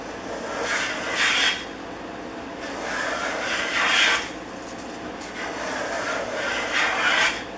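A Stanley No. 130 double-ended Sweetheart block plane shaves wood in three slow, rasping strokes a few seconds apart, close and moderately loud, with no talk.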